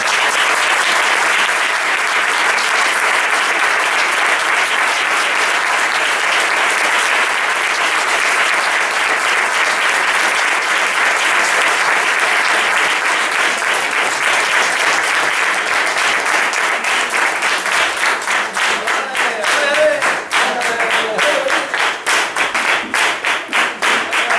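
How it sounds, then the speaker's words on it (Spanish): Steady, dense audience applause fills a book presentation on flamenco archaeology, loud and continuous for over twenty seconds, breaking toward the end into more distinct individual claps. "por eso os pido un fuerte aplauso para ellos."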